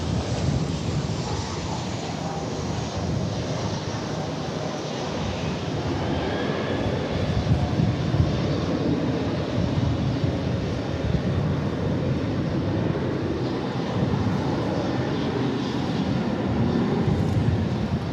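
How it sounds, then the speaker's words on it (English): An American Airlines jet arrives at DFW Airport, its engines a broad, steady roar with wind-like hiss that swells gently over a long pass, no voices present. "That was American Flight 835 arriving from Louisville."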